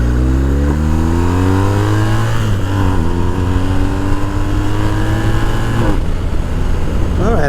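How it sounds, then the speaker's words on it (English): A 2020 BMW R1250 R motorcycle accelerates hard through gears with clutchless upshifts, the engine note climbing in pitch, dropping sharply at each shift and climbing again, loud and close with wind rush. "I just tried that no clutch upshift"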